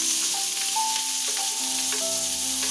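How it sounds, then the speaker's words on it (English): Onions and peppers frying in a saucepan after meatballs were browned in it, a steady, close, continuous sizzle with faint stirring and no talk. "Once your meatball has fried, you go ahead, take it out of the pan, and then you add your onions,"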